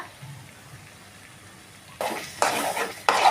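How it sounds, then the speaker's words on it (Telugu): Palak paneer masala with chilli powder, coriander powder and garam masala is stirred in a pan, quiet at first, then a louder sizzle and scraping swells up in bursts as the spoon works through it. "దీనికి ఒక రెండు మూడు నిమిషాలు ఇలాగే కలుపుతూ ఫ్రై చేయండి"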